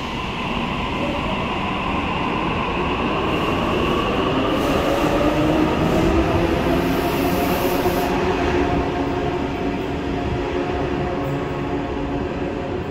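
A train rumbles steadily along a station platform at Wynyard, departing platform 5, with a loud, continuous roar and faint rail hum, no voices.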